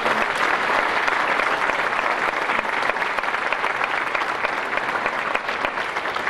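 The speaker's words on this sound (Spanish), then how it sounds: "Yo pido que les demos un gran aplauso" Steady, dense applause from a large audience at a public campaign launch event in Guanajuato, Mexico, sustained at an even level for several seconds with no voices above it.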